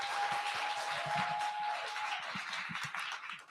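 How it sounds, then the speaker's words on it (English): An audience gives a round of applause at the end of a talk session, a dense, sustained clapping that fades near the end, with a faint steady tone running beneath it for the first two seconds. "Ladies and gentlemen, a round of applause for Khaya."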